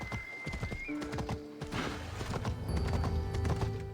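Horse hooves clip-clop in a steady trotting rhythm along a road in the video game Assassin's Creed Odyssey, close and clear, with a whinny and light game ambience layered over the hoofbeats.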